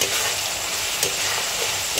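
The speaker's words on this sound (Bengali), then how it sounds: "আমি এখান থেকে সাতলিয়ে রান্না করছি" Spice masala with garam masala powder sautéing in a pan for Bengali basa fish curry, giving a steady close sizzle and frying hiss with light stirring scrapes, no voices.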